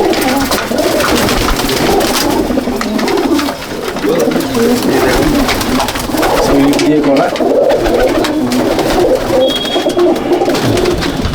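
A flock of pigeons coos without pause inside a loft at Jangipur, Murshidabad: layered, throaty murmuring, near and full, while someone talks briefly over it.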